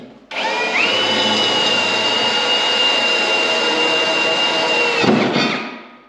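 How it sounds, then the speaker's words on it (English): A power drill whines loudly and steadily for several seconds, its pitch holding high as it bores through metal, then spins down abruptly. "Drill up the holes"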